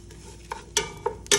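Rava semolina being roasted and stirred in a pan, a few short scraping strokes in an uneven rhythm over a faint dry sizzle, close and alone.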